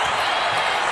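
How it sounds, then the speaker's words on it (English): A basketball arena crowd in an NBA Western Conference semifinal Game 7, Lakers against Rockets, roars steadily as fans rise to their feet, a dense continuous cheer filling the whole moment. "And the crowd gets on its feet."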